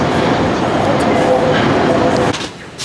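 A subway train in China carries passengers along with a steady, loud rolling rumble and rattle that continues throughout, then eases slightly near the end.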